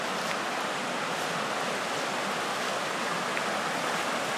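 Creek water rushing steadily where the stream forks on a cold, rainy day in the woods, a constant broadband roar with no voices.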